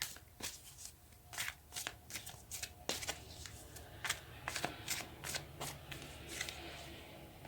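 Tarot cards are shuffled and handled at a reading table, a steady run of crisp riffling snaps and flutters, close and fairly quiet, with no talking.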